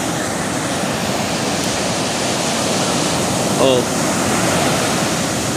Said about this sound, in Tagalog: Hindi pa masyado malalaking alon.